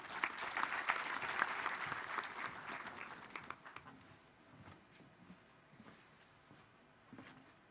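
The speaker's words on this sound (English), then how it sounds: "Please welcome with a round of applause" A conference audience at a pharmaceutical and medical device sector event applauds, a fairly faint patter of many hands that is strongest at first and then fades away.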